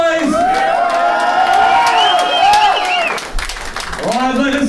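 A rap battle crowd cheers, whoops and applauds loudly and continuously, close and full, with a brief dip before rising again.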